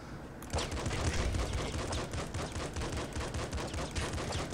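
Rapid pistol fire from the video game Nuclear Throne crackles in a dense, continuous burst of shots, loud and busy, with no talking.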